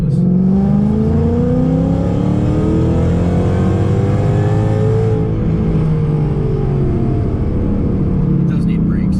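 A Roush supercharged Mustang GT rated at 750 horsepower accelerates in third gear around 3,000 RPM, its engine note a loud, steady rising drone heard from inside the cabin, continuous for the whole stretch.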